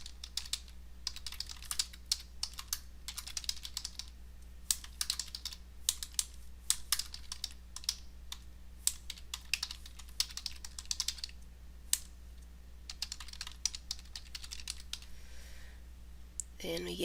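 Typing on a computer keyboard during an out-of-district credit approval procedure, with irregular bursts of soft clicks and pauses throughout, close and fairly quiet, over a steady low hum.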